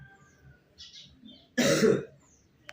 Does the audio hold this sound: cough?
yes